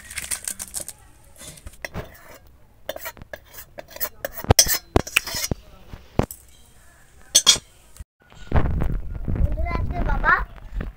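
Three family members sit down to a meal of prawn fritters and a sour radish dish, with sparse clinks of cutlery against plates and dishes close by, then a burst of voices and movement near the end.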